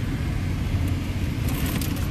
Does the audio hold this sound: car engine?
yes